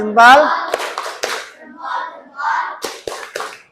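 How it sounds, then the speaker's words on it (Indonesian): A short burst of group clapping and cheering from children, mixed with voices calling out, close and lively. "Yuk kita beri tepuk hebat."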